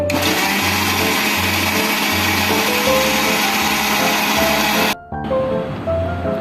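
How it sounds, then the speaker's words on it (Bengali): Electric blender churning roasted mango for a mango drink, a loud steady whir that cuts off abruptly near the end, leaving a quieter hum. "এখন আমি আমটা ব্লেন্ডার করে নিব"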